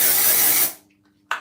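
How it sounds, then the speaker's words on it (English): An aerosol can of hair color spray hisses in one loud, steady burst that cuts off abruptly, followed by a short second puff; no voices. "Here's the spray version."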